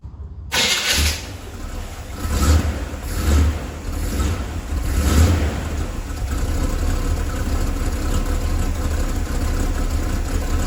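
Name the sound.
car engine starting and revving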